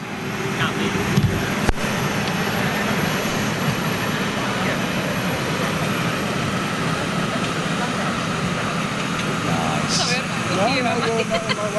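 British Airways jumbo jet in retro livery arriving at London Heathrow, a steady loud engine roar that holds throughout, with people talking nearby.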